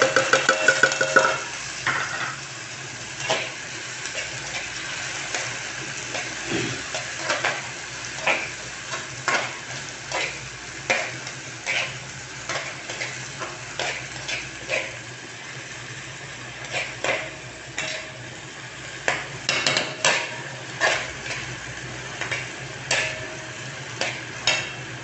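Tomatoes sauté with garlic and onion in a pan, a steady sizzle broken by frequent scraping and clinking of a utensil stirring against the metal, close and prominent throughout.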